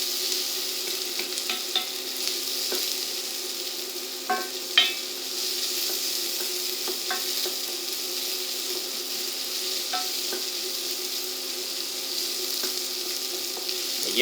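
Chopped onions sizzle steadily in a pan as the base for a pea soup, a constant close hiss with occasional sharper crackles and a few stirring clicks, no voices.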